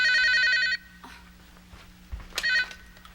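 An old landline telephone bell rings in a Korean home drama scene, a loud burst of ringing for under a second, then a quieter pause before a second ring bursts out near the end.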